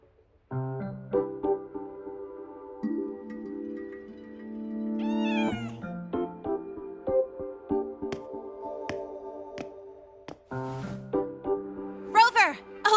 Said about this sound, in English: I see you found a cat friend, Lynae.